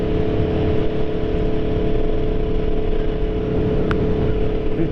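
Aprilia Tuono V4 Factory motorcycle engine running steadily while riding in the rain, a constant loud drone with wind rush and no noticeable revving changes.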